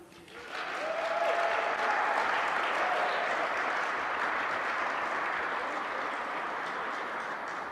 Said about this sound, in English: keep the applause going, folks